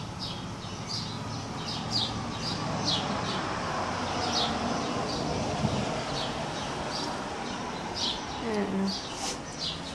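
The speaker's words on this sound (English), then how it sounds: "It's nice to listen all the birds singing." Birds chirp in repeated short high tweets over a busy outdoor background, with a person speaking briefly.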